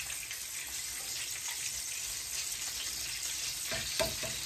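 Butter melting in a pan with a little oil gives a steady, even sizzle, joined near the end by a few clinks and scrapes of a utensil.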